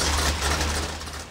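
A small block Chevy V8 on a dyno, set up on 93 octane pump gas, runs with a loud, steady low rumble and a dense mechanical roar throughout, up close with no talking.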